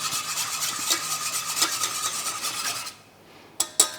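A whisk stirs sauce in a pan for mushroom velouté, giving a steady scraping, rasping swirl for about three seconds, then stopping; two sharp metallic clinks follow near the end.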